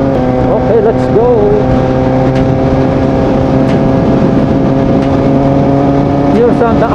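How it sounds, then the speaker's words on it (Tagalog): A Kawasaki ZX4RR motorcycle's exhaust drones steadily while riding, a loud constant engine hum with wind noise and a slight pitch wobble now and then, recorded close on the bike. "Papakinggan mo lang muna natin yung ating tambutso hanggang doon."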